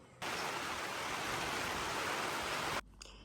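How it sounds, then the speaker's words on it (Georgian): Steady rain falling in bad weather on Kefalonia, a dense even hiss that starts abruptly and runs loud and constant for most of the moment before cutting off. "ცუდი ამინდი იყო გამოცხადებული და გაწვიმდა კიდევაც."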